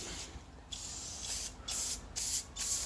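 Brake cleaner sprays at high pressure onto an engine block during teardown prep, a loud continuous hiss broken by several brief pauses as the nozzle is released and pressed again.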